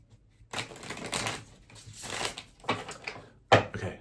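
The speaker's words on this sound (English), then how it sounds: "All right, one last shuffle." Tarot cards are shuffled in a few quick riffling bursts with pauses between them, ending in a sharp snap.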